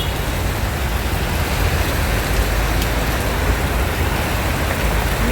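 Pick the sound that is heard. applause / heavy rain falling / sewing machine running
heavy rain falling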